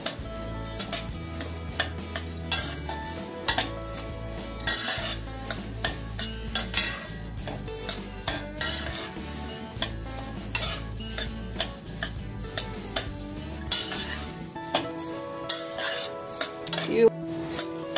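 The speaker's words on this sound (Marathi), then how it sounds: "तीळ भाजल्या त्याला खमंग असा वासही सुटतो आणि ते फडफड होतं." Sesame seeds stirred and roasted in a pan for Makar Sankranti sesame laddoos, with a steady scraping and clinking of a spoon against metal throughout and a faint crackle underneath.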